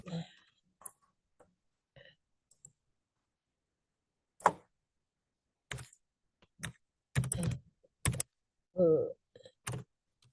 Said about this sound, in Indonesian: kita ketik scopus.com